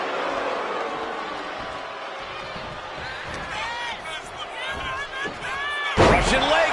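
A wrestling slam lands hard in WWE 2K25 near the end, a loud thudding impact after steady crowd noise and game commentary voices.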